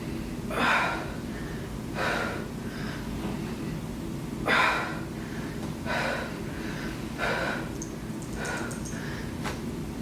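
Heavy, gasping breaths from someone doing a bodyweight core workout come in repeated loud bursts every second or two, close up over a faint background hum.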